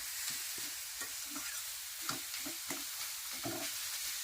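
Boiled jujube pickle is stirred in a pan on a stove, with soft, repeated scrapes and thumps of the spoon against the pan over a steady, quiet sizzle of oil.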